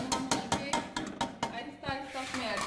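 Fried chicken pieces going into a pan for chicken Manchurian, heard as a quick run of close clinks and scrapes of a utensil against the metal pan, with rhythmic knocks over a faint background.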